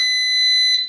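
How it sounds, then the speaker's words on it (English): A single loud, high electronic air fryer beep held steady for about a second, then cutting off. "there's the beep"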